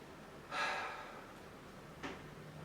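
A single audible breath drawn in during a relaxing yoga neck stretch, a soft airy inhale lasting about half a second, then a brief quieter exhale, close and alone without speech.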